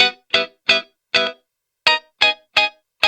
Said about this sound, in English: It sounds like this, only the guitars.